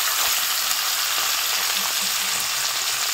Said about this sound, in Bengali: হালকা করে লাল করে ভেজে তুলে নেব, বেশি ভাজবো না, শিঙি মাছ বেশি ভাজতে হয় না